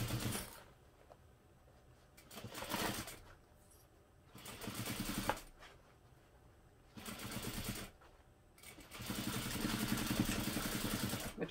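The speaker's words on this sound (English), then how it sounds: "When I sew across the strap connector, I'm going to backstitch" A sewing machine backstitches across the strap connector of a crossbody bag, running in four or five short bursts of rapid mechanical whirring separated by brief quiet pauses, close and fairly soft.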